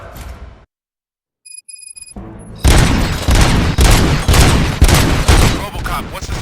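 RoboCop: Rogue City game gunfire erupts after a brief silent gap and a few electronic beeps, loud, dense repeated shots and booms, a steady fusillade with no talking over it.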